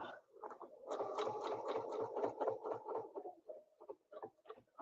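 A sewing machine runs in quick bursts of rapid stitching, double-stitching lines across a quilt with a ruler; close and steady, with short pauses between runs and no talk.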